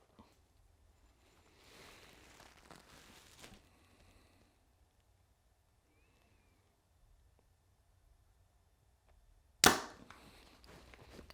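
A compound bow fires an arrow during creep tuning, giving a single sharp, loud snap-thump of release late in a mostly quiet stretch with faint background shuffling.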